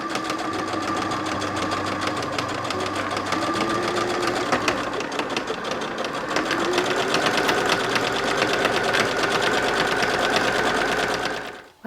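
Sewing machine stitching French seams joining the side panel to the front panel of a child's suit, a steady fast mechanical whir and needle chatter running continuously at close range with no talk.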